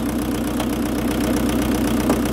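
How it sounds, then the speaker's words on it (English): The two-litre diesel engine of a 1993 Rover Maestro 700 L van idles steadily with a rough, knocking clatter, close and continuous. "I love that two litre diesel in there."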